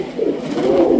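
Pigeons coo at a Bangladeshi pigeon farm, a brief, low, rolling murmur heard close and steady, with no voices.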